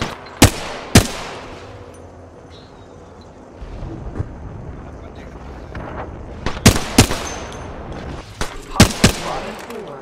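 Gunfire in Apex Legends, with sharp single shots and clustered bursts, some loud and close, others more distant, scattered across a rumbling game soundscape.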